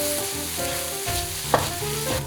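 Fried rice being stirred with sauce in a hot pan for a Korean fried rice burger, close sizzling with scraping spatula strokes and a sharp clack midway, no talking.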